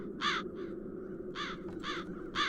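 Crows cawing in The Dark Eye: Chains of Satinav game, several harsh rasping caws in quick irregular succession, fairly close and loud over a low ambient hum.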